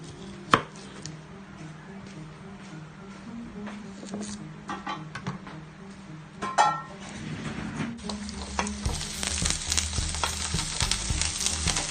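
Hot cooking oil spits and crackles in a pan during stir-frying, a busy sizzle that grows denser and louder toward the end, with scattered clatters and scrapes of a utensil and no talking.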